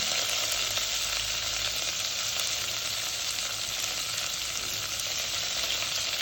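Onions frying in hot oil for khichdi, a steady, dense sizzle that stays loud and close throughout with no pauses and no talking.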